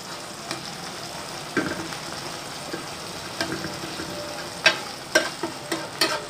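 Tomato masala fries in a pan with a constant soft sizzle, broken by scattered scraping clicks of a spoon stirring, louder toward the end, close and without talk.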